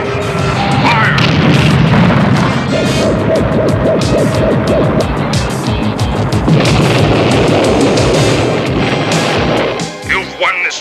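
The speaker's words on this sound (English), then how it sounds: "Missile! Fire!" An animated series missile launches and explodes with a loud, sustained booming blast, a thick rumbling roar that fills the scene before a brief tail of clatter at the end.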